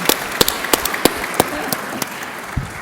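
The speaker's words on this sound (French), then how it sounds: "Et bon, on les applaudit." Sparse applause from a forum audience, a thin patter of claps with a few louder, distinct hand claps standing out at a loose, irregular rhythm.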